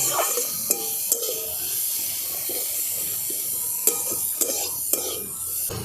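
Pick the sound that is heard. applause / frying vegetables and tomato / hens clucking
frying vegetables and tomato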